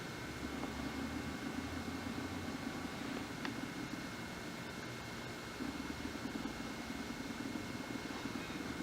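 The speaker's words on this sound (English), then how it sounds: "Jaguar 6-cylinder twin overhead cam, engine breathing through 2 SU carburetors" An old Jaguar XK120's six-cylinder twin overhead cam engine, breathing through two SU carburetors, idles steadily at a moderate distance, a continuous low rumble with a faint mechanical whine and no voices over it.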